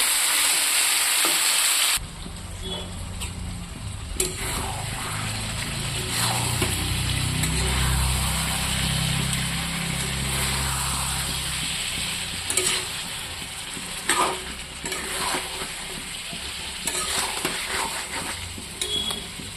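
Local chicken curry cooking with spiced fried potatoes in a pan: a continuous close sizzle broken by repeated stirring scrapes and occasional clinks of a utensil against the pan.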